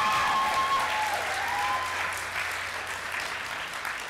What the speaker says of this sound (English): So if you could please give them a round of applause.